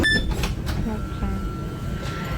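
A train pulls into La Spezia station, heard from inside with a low rolling rumble, a few clacks and door-like thuds, and muffled voices in the carriage.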